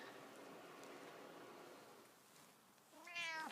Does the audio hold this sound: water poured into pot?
no